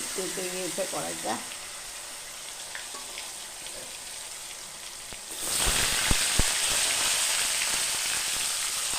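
Potatoes go into a very hot kadai with bay leaf and whole cumin, and a sudden loud sizzle erupts midway and then holds steady with a few sharp pops. Quieter pan sounds and a voice come before it.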